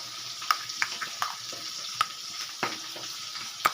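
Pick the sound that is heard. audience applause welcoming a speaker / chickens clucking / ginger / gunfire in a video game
ginger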